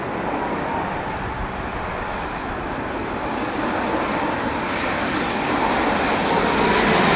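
An airliner with a big, droopy undercarriage lands in strong winds at London Heathrow, its loud, continuous engine roar building gradually and a rising whine creeping in toward the end, with no voices.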